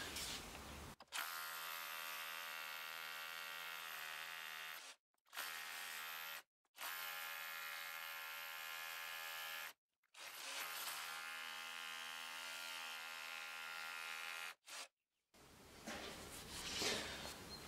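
A Bosch UniversalHammer 18V cordless rotary hammer drills into stone in loud, steady bursts with a dense buzzing hammer action, stopping briefly several times before a final short burst.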